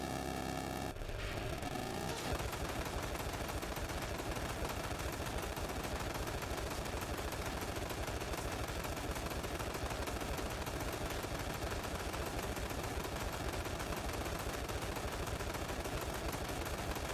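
Continuous loud, noisy gunfire in the video game Ride to Hell: Retribution, a dense unbroken rattle of shots over roaring background noise for the whole stretch, with no talking.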